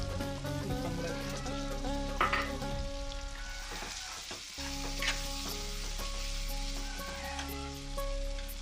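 Turmeric powder sizzles and crackles steadily in hot oil in a pan while cooking Bengali-style chicken kosha. The dense frying hiss runs close and loud throughout, with faint stirring scrapes and no talk.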